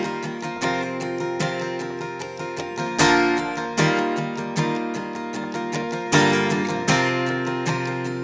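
Worship-style guitar chord progression, strummed with steady rhythmic accents and bright, ringing chords, with stronger hits marking new chord changes every few seconds, played alone without talk.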